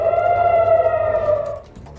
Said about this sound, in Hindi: तेल अवीव ने लगातार बज रहे हैं सायरन।